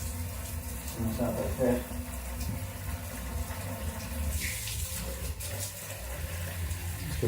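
Hot water runs from a tap over sterilized dressing instruments, a steady broadband rush continuing through the whole stretch while a person talks briefly over it near the start.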